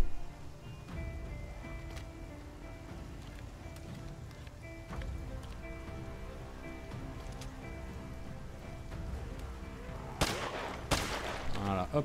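A Remington firearm in the zombie survival video game Project Zomboid: after a quiet stretch with a rain-like patter in the background, two loud, sharp shots ring out close together near the end.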